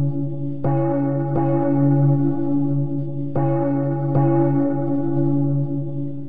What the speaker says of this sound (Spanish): A sus espaldas, las campanas seguían tañendo para anunciar la muerte del niño rey.